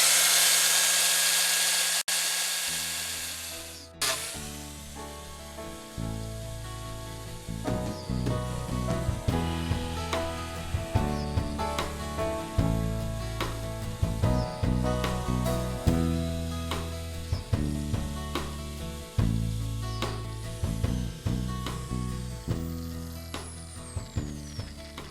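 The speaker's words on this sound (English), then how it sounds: "With the grinder, it's just buzz" A grinder fitted with a drilling bit bores rows of offset holes into a shiitake mushroom log for inoculation. It gives a loud, continuous buzzing whine that rises and dips in repeated bursts as each hole is cut, close by and with no talk.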